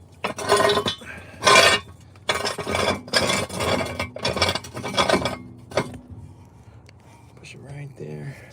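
Metal clanks and scraping rattles come from a jack stand being pushed under a Mercedes-Benz CLA250 toward the rear control arm, in several bursts, near and fairly loud. A person speaks briefly between the bursts.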